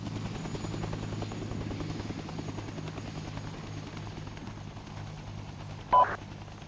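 A video game helicopter's steady low rotor drone hums continuously in the background, fairly faint, with a brief electronic blip near the end.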